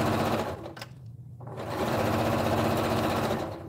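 Sewing machine top stitching a blanket runs in steady fast bursts close up, pausing briefly in the middle before resuming a continuous whirring drone with no talk.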